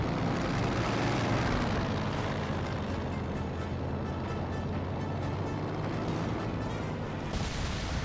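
Anti-aircraft fire at planes in the Company of Heroes 2 war strategy game: a constant dense roar of gunfire, engine drone and distant blasts, unbroken from start to end.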